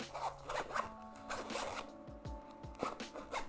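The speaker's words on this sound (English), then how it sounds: "even the zip feels a little bit more solid, a little bit less finicky" The zipper on a Sivga earphone carrying case is pulled open in a series of short, close raspy strokes with small pauses between them, quiet and alone without speech.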